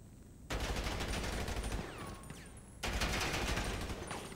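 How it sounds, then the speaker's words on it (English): Sustained automatic carbine rifle fire in GTA Online, a dense rattling burst that runs for about two seconds, pauses briefly, then resumes just as loud and continuous. "Carbine rifle."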